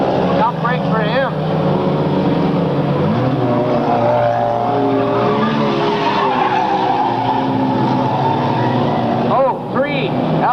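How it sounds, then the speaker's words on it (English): A race car slides sideways into a turn with tires skidding, heard as a long, loud engine drone with wavering squeal tones from several cars. A commentator talks over it throughout. "Albert Williams gets way sideways going into turn number 2."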